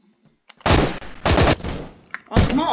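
Three loud bursts of M4 battle rifle fire in the video game Phantom Forces, each a short cluster of sharp shots separated by brief pauses, close and punchy over faint background game sounds.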